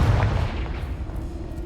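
Confringo explosive spell in Hogwarts Legacy, a deep booming blast with a rumbling low-end tail that fades over about a second and a half.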